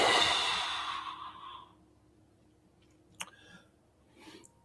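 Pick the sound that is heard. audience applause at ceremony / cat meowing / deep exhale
deep exhale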